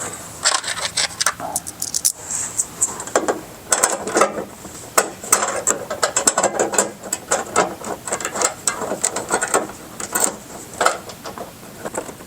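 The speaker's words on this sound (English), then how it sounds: "Now we're going to take our remaining 2 screws and go into those remaining 2 points." Screws are driven into the fender of a 2020+ Chevrolet Silverado 2500/3500 HD to mount Rokblokz mud flaps, close ratcheting and whirring bursts from the driver with short clicks and pauses between.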